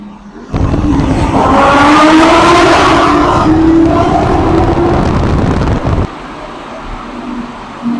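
An Audi R8 accelerating hard through a tunnel, its engine swelling into a loud, echoing roar with rising pitch that holds for several seconds before cutting back abruptly to a quieter rumble.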